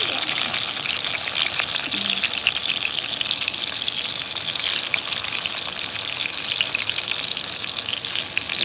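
Dried fish (daing) frying in oil on a rooftop, a dense, continuous crackling sizzle that stays steady and close throughout, with no voices.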